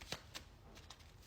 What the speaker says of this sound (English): I'm going to keep shuffling though.